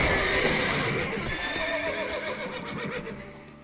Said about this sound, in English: These horses are very angry.